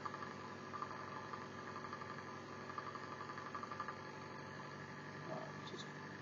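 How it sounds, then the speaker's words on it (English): A Romero replication pulse motor running on a single drive coil gives a faint, steady mechanical hum with a regular pulsing buzz, close by and quiet, without talk. "This motor is running on one coil."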